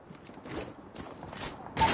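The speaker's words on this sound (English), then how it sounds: "Reloading!" A weapon reloads in Call of Duty Mobile with quiet mechanical clicks and rattles of a magazine change, ending in a sharper metallic snap.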